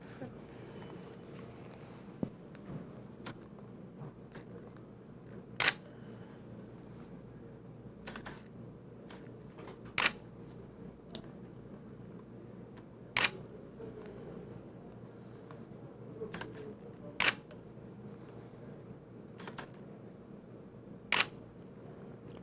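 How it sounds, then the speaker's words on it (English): Camera shutter clicks during a one-light portrait photo shoot: about a dozen short, sharp clicks at irregular intervals, some louder than others, over a quiet room hum with no talking. "Every time you hear the shutter click, you move, right?"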